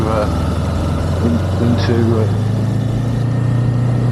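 A Kawasaki Ninja 7 HEV hybrid motorcycle's engine runs steadily at a low, constant drone while riding in eco mode, with a brief higher whine partway through and a slight rise in pitch near the end.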